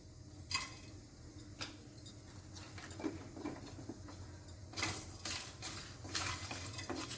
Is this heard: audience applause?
no